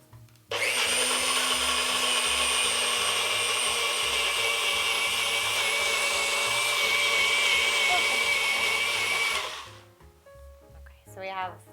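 A blender whirs steadily at high speed for about nine seconds, blending a pesto chickpea pasta sauce, then stops, followed by a few brief clattering handling sounds.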